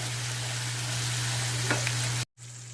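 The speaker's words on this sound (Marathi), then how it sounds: "छान असं तेल सुटेपर्यंत आपल्याला हे भाजून घ्यायचं आहे।" Masala roasting in oil for a restaurant-style matar paneer, a steady broadband sizzle with a low hum running underneath and a couple of faint stirring touches, cutting to a brief silence near the end.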